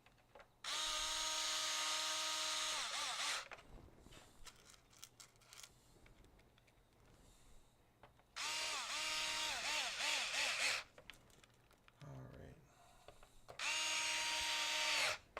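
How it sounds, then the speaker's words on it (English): A power drill drives screws during a game console repair after an HDMI port replacement, three long whining bursts of the motor running close by, separated by quieter handling noise and no talking. "Now we gotta install 101 screws."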